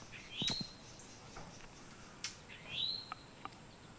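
Wild birds calling from trees in an area frequented by towhees, with two rising whistled calls and a few short chirps, fairly faint against a steady outdoor hiss with no talking.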